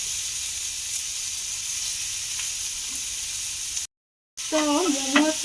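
Dried red chillies frying in hot oil for a spicy chicken momo chutney give a steady close sizzle, briefly cut off, then resuming with a spoken voice over it.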